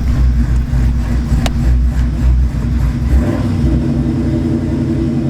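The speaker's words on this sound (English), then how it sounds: "We're gonna go first gear real quick." A car engine with a newly installed clutch rumbles low and loud, surging as it accelerates in first gear, with a deep steady growl filling the whole stretch close by.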